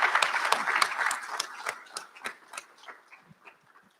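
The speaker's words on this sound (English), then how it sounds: "So we can applaud them as well." Applause at a college recognition ceremony, honoring the children of graduating parents, starts as a fairly dense round of clapping and thins out into a few scattered claps, moderately distant in a large hall.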